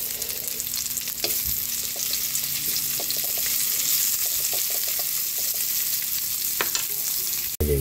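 Onion sautéing in a pan for a shrimp and mussel dish, a steady close hiss of frying with occasional stirring clicks and scrapes, ending with a sharp knock.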